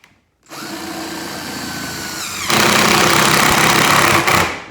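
A power drill whirs up close as it drives an oversized screw into a metal top cover on a telescoping beehive, starting after a brief pause and rising into a louder, harsher grind partway through before cutting off.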